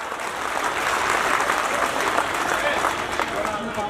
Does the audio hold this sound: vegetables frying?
no